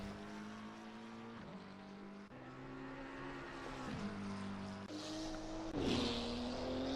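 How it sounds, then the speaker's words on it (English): McLaren race car driving the Nürburgring Nordschleife during a multi-class endurance race, its engine holding a steady, loud drone with a few pitch shifts and gear changes, rising in intensity toward the end. "Alarcon coming into Tiergarten now, and Hohenrain will bring this McLaren home in one piece"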